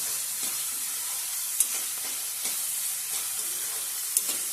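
Onions frying in a pan for a Konkani chawli leaf bhaji, a steady bright sizzle with occasional scrape-like stirring clicks, close and continuous, with no one talking.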